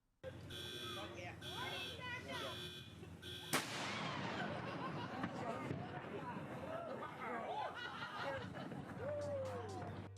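Vancouver's Nine O'Clock Gun, a cannon firing a gunpowder charge with no projectile in Stanley Park, goes off in a single sharp, loud bang, followed by crowd chatter and ambient noise.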